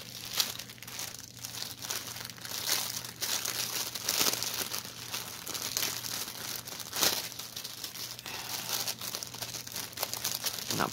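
Plastic packaging on pre-stamped cross stitch kits crinkles continuously and up close for about eleven seconds, with sharper crackles now and then and no one speaking.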